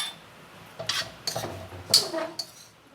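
Metal utensil scraping and clinking in a pan as food is stir-fried, with a few sharp clanks and a faint sizzle underneath, cooking a Thai dish of sweet leaf vegetable with beef.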